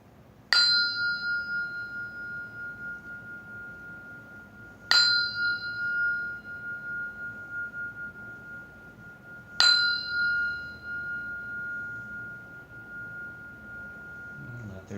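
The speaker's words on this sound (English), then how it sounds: "I'll ring the bell." A meditation bell is struck three times at even intervals, each strike giving a clear ringing tone that slowly decays over a quiet room.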